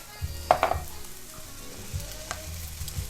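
King oyster mushroom shredded meat sizzles in a pan with a low steady frying hiss, punctuated by a few close clinks and bumps from a utensil.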